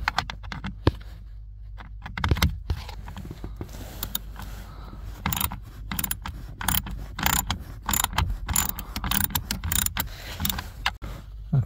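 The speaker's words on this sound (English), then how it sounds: "now you'll need Torx T20, just like I said, to remove all of these screws" Torx T20 driver working screws out of a Dodge Grand Caravan blower motor, with close, irregular ratcheting clicks, metallic ticks and brief scrapes coming in bursts against a quiet background.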